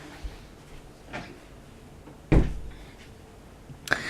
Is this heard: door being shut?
yes